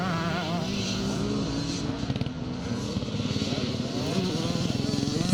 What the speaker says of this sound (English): It looks like Philip's riding an old YZ Yamaha machine.